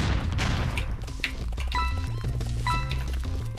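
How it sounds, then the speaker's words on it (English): Bombs go off in a Bomberman match, a dense run of booming blasts and crashes chaining across the map, loud and continuous over a layer of game music with no clear talk. "I didn't know they did chain reactions like that, that's neat. Oh yeah, you could set up other traps. Bombs."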